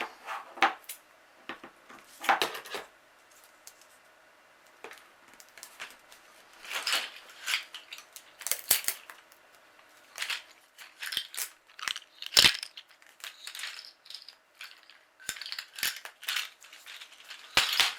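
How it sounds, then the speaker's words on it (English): Decorative tape is pulled and pressed around a recycled rattler, with sharp crinkles, tearing rips and crunchy handling noises in irregular bursts, close and fairly quiet against near silence. "So I'm going to add some more tape decoration."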